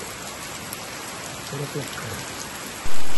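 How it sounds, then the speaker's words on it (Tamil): Rain begins falling at a rural home, a steady hiss of drops spread evenly across the whole stretch. A faint murmur of voices sits briefly underneath, and a louder thump lands near the end. "மழை ஆரம்பிச்சு."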